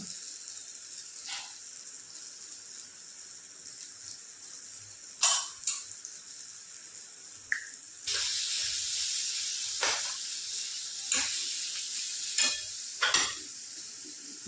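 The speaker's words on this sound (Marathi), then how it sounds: "तोंडल्याचे ते मी आता करटोले याच्यामध्ये टाकले. त्याचा चांगले परतून घ्यायचे." Ivy gourd and spiny gourd sauté in oil spiced with turmeric, red chili and masala, giving a steady close sizzle with spoon-stirring scrapes that grows louder partway through, with no voices.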